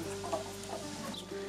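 Hens in a backyard coop give soft, repeated clucks and low murmurs, close by and steady, with no talking.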